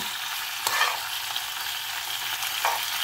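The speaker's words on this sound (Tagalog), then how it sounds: "nilagay ko ng pak choy at saka chili mesh" Pork, mushrooms and pak choy stir-frying in a pan with chili, a steady broadband sizzle with a few louder scraping stirs, close and without voices.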